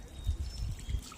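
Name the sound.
wet shoes squishing on a flooded trail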